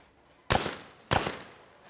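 Two loud shotgun blasts about half a second apart in a men's skeet shooting final, each a sharp close crack with a short decaying tail, nobody speaking between them.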